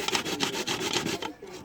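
Carrot and beetroot are rubbed against a hand grater in quick, rhythmic rasping strokes, close and fairly loud, for a short burst before trailing off.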